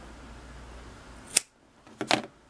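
Scissors snip thread beside a Singer 15-91 sewing machine with two close, crisp cuts: a single sharp snip, a brief pause, then a quick double snip. The room is otherwise quiet.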